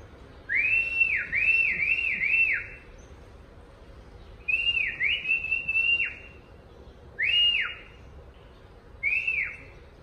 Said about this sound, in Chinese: 我还在不停地吹口哨在找